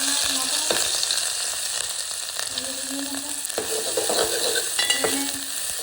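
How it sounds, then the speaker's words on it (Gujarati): Garlic paste frying in boiling oil for a hotel-style Manchow soup, a steady loud sizzle throughout with a few sharper crackles and scraping stirs, no voices. "હવે તેલ ઉકળી રહ્યું છે એટલે આપણે બધું નાખવું પડશે તો જો તેલ ઉકળી ગયું છે હવે લસણ ને બધો પેસ્ટ"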